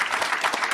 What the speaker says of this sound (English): a first huge round of applause for the panelists